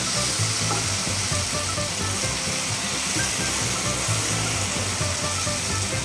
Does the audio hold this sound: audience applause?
no